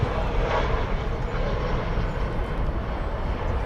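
An American Airlines Boeing 737 in 100th-anniversary livery roars past at DFW Airport, a loud, continuous broadband jet rumble that stays dense and steady throughout.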